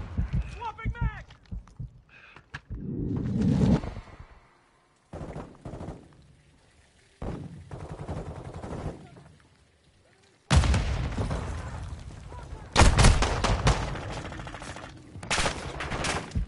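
Pistol gunfire in a military shooter video game, sharp shots in bursts and single cracks amid game radio chatter and someone talking, with loud broadband blasts near the end.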